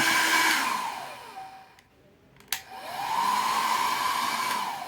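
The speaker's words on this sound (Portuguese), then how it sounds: "no momento que eu ligo o meu secador" A hair dryer roars steadily and loud nearby, cuts out for a moment with a click, then spins back up, its motor whine rising as it switches on again and settles into a constant blow.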